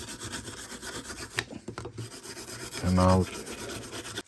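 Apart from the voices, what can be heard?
sanding knife blade with a file and sandpaper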